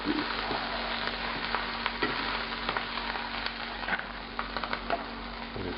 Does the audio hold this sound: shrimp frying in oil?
yes